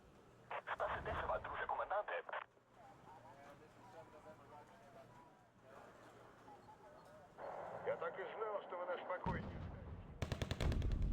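Rapid bursts of BMP-2 autocannon fire in a video game, a steady stream of shots at the start, then quieter chatter under talk, and renewed fire near the end.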